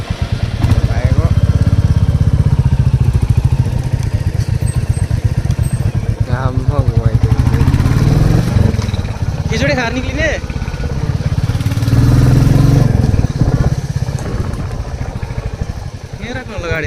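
A motorcycle engine idles steadily while the bike is parked near a hilltop Shiva temple on Shivratri, a low continuous rumble running beneath near, continuous talking throughout.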